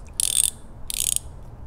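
Two quick bursts of socket wrench ratcheting while tightening an 11/16 oil drain fitting on a John Deere, close and crisp clicking separated by a short pause, no speech.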